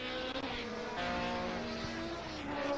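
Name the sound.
Ferrari F1 car engine note in a racing video game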